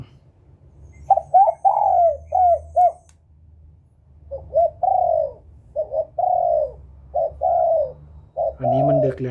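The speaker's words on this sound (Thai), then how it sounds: "เสียงนกเขาของพี่เขาเลยแล้วกันนะครับผม" Dove coos from an electronic bird caller play in repeated short phrases, soft hooting notes in rhythmic bursts with pauses, slightly electronic in tone, ending with a brief louder noise.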